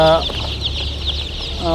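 Rhode Island Red layer chicks clucking and chirping close by, short bursts at the start and end around a thin steady peeping.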